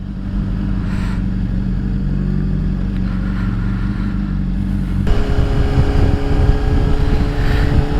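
A 2007 Honda CBR600RR motorcycle with a flash-tuned engine rides under heavy wind rush, its engine note dropping and then shifting abruptly partway through, as in a downshift, loud and continuous with no voices.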